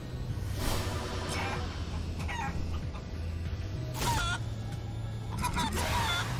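Chicken clucks from the Guacamelee 2 platformer on Switch, short bursts scattered over continuous game music and effects, fairly close and mixed into a busy soundtrack.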